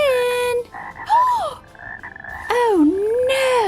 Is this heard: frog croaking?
yes